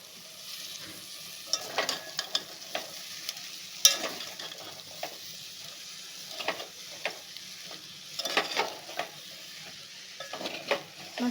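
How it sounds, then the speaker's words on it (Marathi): Cooked chickpeas frying in a spice masala, with a steady sizzle under repeated scraping stirs of a spoon against the pan, fairly close and moderately loud, no talking. "मसाल्यामध्ये छोले छान भाजून घेऊया."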